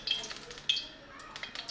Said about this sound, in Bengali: এখন তেল দিয়ে দিচ্ছে, দেখতেছেন কড়াই গরম হয়েছে।